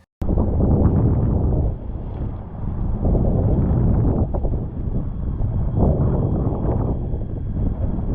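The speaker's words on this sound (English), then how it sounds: "I don't know if you guys hear the wind in the background" Wind roars steadily against the microphone out on rough water during a fishing trip, a loud low rumble that swells and dips in gusts for several seconds.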